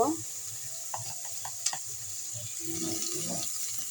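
Beef liver frying in a pan, a steady hiss running throughout with a few scraping stirs and light clinks, fairly close and moderately loud, no voices.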